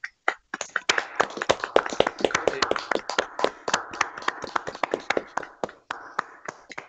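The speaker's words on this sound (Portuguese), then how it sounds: "a gente vai bater uma salva de palmas para o Marcos aí" Audience applause in an interview setting, heard as a burst of sharp, distinct hand claps with an uneven rhythm, fairly close and loud, lasting several seconds with no talk over it.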